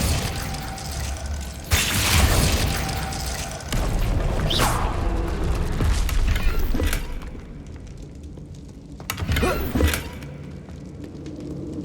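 Glacius ice spell bursts in Hogwarts Legacy, several sharp crackling, shattering blasts with booming low rumble, the loudest flaring near the start and again late, set among other spell effects.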